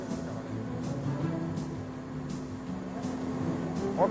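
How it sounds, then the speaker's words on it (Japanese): A crane truck's engine idles steadily while it carries a giant stone statue, a low continuous hum at moderate distance with faint rhythmic clicks. "現代文明の力クレーン車は心地よいアイドリングの音を響かせながら着実に目的地へと巨大石像を運ぶ"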